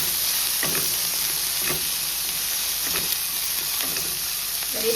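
Vegetables such as flat beans and corn sautéing in a pan for veg pulao, a steady soft sizzle with faint stirring scrapes recurring about once a second, no talking.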